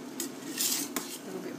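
A spoon scrapes and clinks against a pot while pie gravy is stirred and thickened, with a few sharp metallic knocks over a soft bubbling background.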